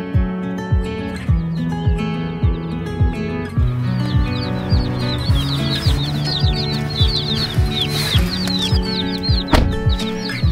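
A batch of fifteen mail-ordered baby chicks cheeps in rapid, high-pitched bursts over a steady, rhythmic backdrop, with no voices.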